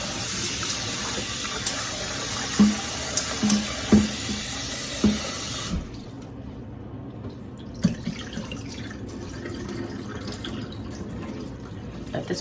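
Tap water runs steadily into a sink while rice is rinsed, with a few soft knocks and splashes; the flow cuts back about halfway through and continues more quietly.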